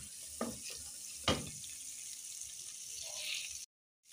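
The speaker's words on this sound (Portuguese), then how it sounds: "Fritou bastante agora a calabresa." Calabresa sausage fries in a pan for feijão tropeiro, giving a faint, steady sizzle broken by two soft clatters before it cuts out abruptly.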